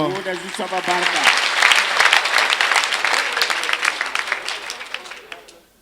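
A church congregation breaks into loud, sustained applause that swells and then fades out, with a voice speaking over the start of the clapping.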